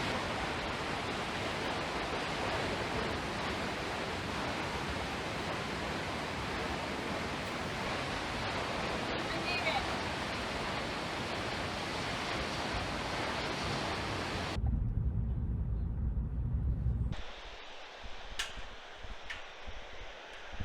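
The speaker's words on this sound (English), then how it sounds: "Behind me is the famous Shoshone Falls." Shoshone Falls on the Snake River in southern Idaho, heard as a loud, continuous rushing roar of falling water that drops away sharply near the end.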